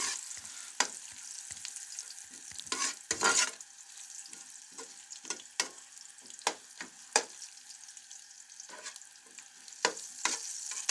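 Sheer khorma ingredients frying and being stirred in a pan, with a steady soft sizzle broken by repeated sharp scraping and stirring clatters, close up, with no talking.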